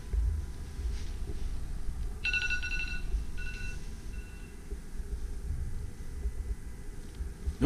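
Telephone ringing inside an empty rental duplex unit in Indianapolis, a short electronic ring burst partway through, faint against steady room and wind noise with no talking.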